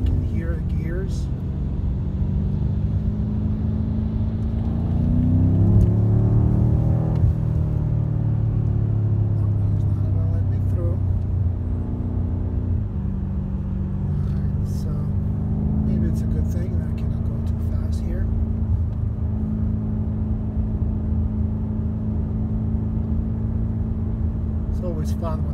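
A 2018 BMW M5 F90 accelerating from inside the cabin, its engine rumble rising and then dropping as gears shift, steady and moderately loud throughout, with road noise underneath.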